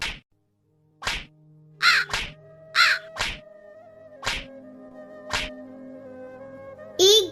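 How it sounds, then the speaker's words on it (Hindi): In an animated children's story a crow caws in a series of loud, sharp, nasal calls spaced about a second apart, with a final burst at the end. "फिर कालू कौवा वहाँ से चला जाता है"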